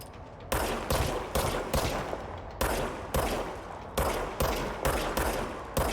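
Gunfire in the video game Control: loud, evenly spaced shots roughly every half second, each with a short, harsh decay, heard alone without talk.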